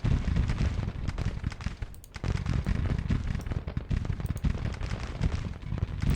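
Civil War infantry volleys roll across a battlefield in the strategy game Grand Tactician, a dense, continuous crackle of massed musketry with heavy low rumble and no pauses.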